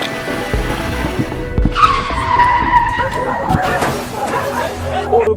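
A car skids with a long, loud tire squeal that fades out, heard close over steady engine and street noise, with no clear crash impact.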